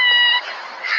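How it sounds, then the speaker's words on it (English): A single short, fairly loud cat meow, close by and alone, tailing off into a breathy finish. "You're a bad little kitty,"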